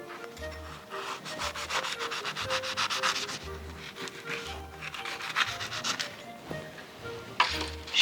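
A knife saws through gluten-free choux eclairs to halve them, giving repeated short rasping strokes with soft dull thuds on the board, close and fairly quiet, with no talking.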